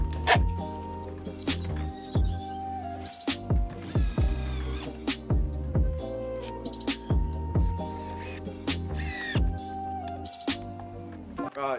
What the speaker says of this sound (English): I'm going to put 4 screws in it now.